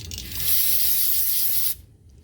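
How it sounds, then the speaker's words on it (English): Brake cleaner is sprayed from an aerosol can onto a rag during a Jeep Patriot transmission fluid change, one close, steady hiss lasting about two seconds that stops abruptly. "I'm just going to spray some brake cleaner on the rag."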